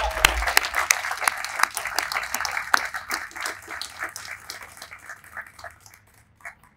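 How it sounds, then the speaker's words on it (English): Audience at a press conference in Portland, Oregon applauding, a dense burst of close clapping that gradually thins and fades out over several seconds. "So round of applause for Lake."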